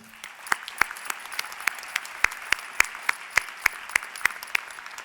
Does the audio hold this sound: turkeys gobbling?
no